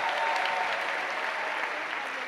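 Church congregation applauding during a live service, a dense, steady wash of clapping that holds evenly for the whole stretch without a break.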